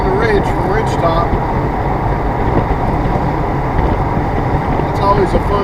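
A 2017 Corvette Stingray rolling down a ridge with semis around, giving a steady engine and tire drone with road rumble, close and continuous, with no voice audible.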